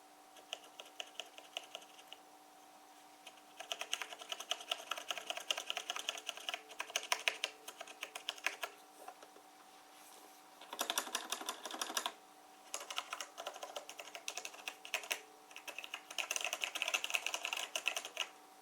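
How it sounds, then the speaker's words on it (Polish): Logitech G910 Orion Spark mechanical keyboard keys clacking in quick bursts of typing, crisp and close, with brief pauses between runs and no talking. "Posłuchajcie klawisza."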